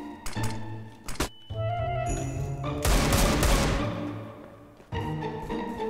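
Gunfire in Counter-Strike: Global Offensive, with bursts of shots and a loud volley in the middle of the clip, set against in-game background sound.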